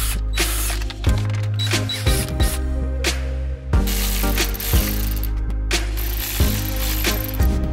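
A hand ratchet clicks in quick bursts of repeated strokes, close and loud, as nuts and screws are backed off a damaged car body panel, with short pauses between runs.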